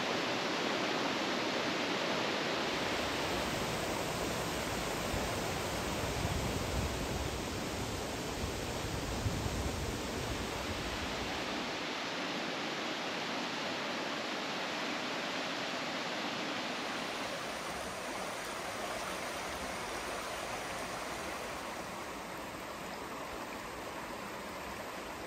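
The River Cefni flows through a wooded valley on Anglesey, a steady, soft rushing of water heard alone for the whole stretch, with slight swells in level and no voices.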